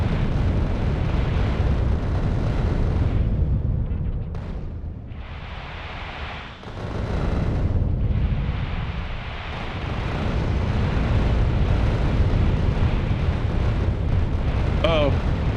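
Missile blasts in Factorio roar in heavy, rumbling waves that dip briefly in the middle before building again, with someone talking over the din.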